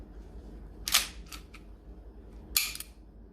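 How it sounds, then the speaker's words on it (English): The slide of an Umarex Elite Force Beretta M92A1 airsoft pistol is pulled back and released, giving a few close, sharp mechanical clacks with a pause between the first pair and a final snap. "it's as simple as lining up your slide, pulling it back, and flicking the switch."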